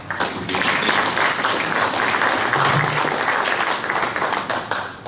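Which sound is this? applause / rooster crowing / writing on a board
applause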